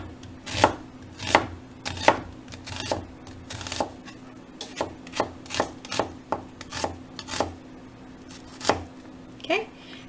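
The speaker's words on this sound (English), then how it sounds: "I'm going to julienne this onion" A knife slices an onion into thin julienne strips on a cutting board for a Spanish tortilla, giving a run of crisp, evenly spaced chops, close and distinct against a steady low hum.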